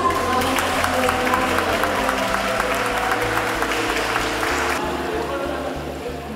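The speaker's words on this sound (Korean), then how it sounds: "이처럼 많은 사람들의 박수와 격려를 받는 건 처음입니다" An audience at a swimming event applauds as a ten-year-old boy finishes his swim, a steady dense wash of clapping from many people that fades slightly at the end, with some voices underneath.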